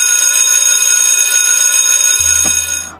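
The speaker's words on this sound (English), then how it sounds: "And this is the sound of the beginning and end of the lesson in Ukraine." Ukrainian school bell marking the start and end of a lesson: a steady, loud electric alarm-bell ring with bright sustained overtones, continuous for about two seconds before a low hum enters and the ringing fades out.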